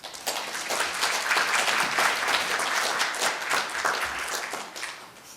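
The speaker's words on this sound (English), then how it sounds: "Please give him a big round of applause." Applause from a conference audience at an intellectual property session: a moderate, steady clapping of many hands that swells, holds for several seconds, then tapers off.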